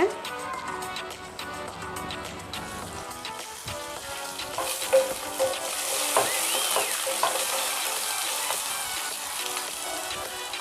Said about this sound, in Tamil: எண்ணெய் சூடானதும் வெங்காயம் கொஞ்சம் பெருசு பெருசாக இந்த மாதிரி சைஸில் கட் பண்ணி அதில் ஆட் பண்ணிக்கோங்க.